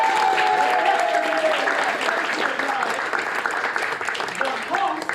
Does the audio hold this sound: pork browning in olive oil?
no